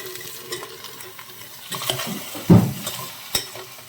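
Ridge gourd frying in a pan with ginger garlic paste, heard as a soft, steady sizzle up close, broken by a few louder stirring scrapes and clatters near the end.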